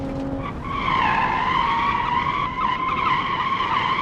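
Locked brakes on a 1970s Japanese sports car in BeamNG send the tyres into a loud, sustained skid squeal that begins after a brief pause and holds steady for several seconds, close and alone.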